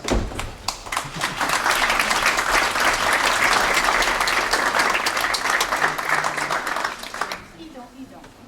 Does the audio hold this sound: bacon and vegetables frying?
no